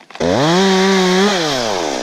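Small lawn mower engine running at a steady high-pitched drone after a short start, with a slight pitch dip near the end, loud and close with no talk.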